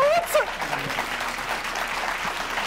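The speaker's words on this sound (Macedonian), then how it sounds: "додека воодушевените колеги му даваат аплауз" Enthusiastic colleagues applauding, a sustained burst of clapping from a group that holds steady throughout, with a few whistle-like tones near the start and voices mixed in.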